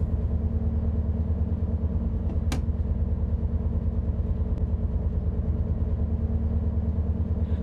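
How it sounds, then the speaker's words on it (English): A train engine in the Train Sim World 6 game, Riviera Line, idles in a steady, low, droning rumble with an even pulse, joined by a single sharp click partway through. "But I can hear an engine here"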